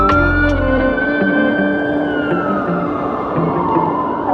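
An ambulance siren wails loudly along a road near a university campus, its tone sliding downward as it passes close by, with traffic rumbling underneath.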